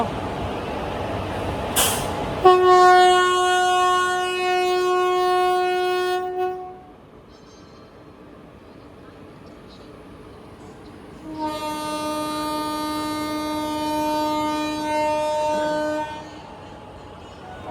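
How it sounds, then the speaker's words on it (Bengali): The Ballia Express, running with ICF coaches, departs to two long, loud horn blasts separated by a short pause, with the rumble of the train underneath. "ট্রেন ছেড়ে দিল।"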